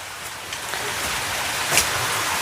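Strong water rushing steadily over a small backyard mini waterfall during the rainy season, a dense continuous roar close by with no talking.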